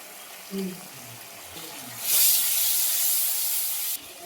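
A small amount of water hitting a hot pan of ground spices, bursting into a loud hissing sizzle that holds steady, with faint clinks before it.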